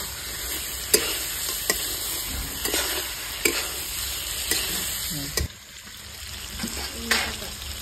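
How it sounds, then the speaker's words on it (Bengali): Chicken cooks in a pan as water is poured in, with a steady, hissing sizzle broken by scraping clicks from stirring. The sizzle briefly drops away, then builds back up. "চিকেনে পুরো জলটা ছেড়ে দিচ্ছি।"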